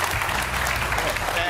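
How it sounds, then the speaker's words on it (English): Studio audience applause at the top of a rugby league talk show, loud and steady throughout, with a host's voice speaking over it. "keep the applause going"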